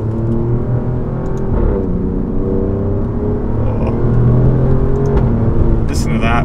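An Alfa Romeo Giulia Quadrifoglio cruises along a mountain road at evening, its engine a loud, steady low hum with some rising revs, while a driver talks over it.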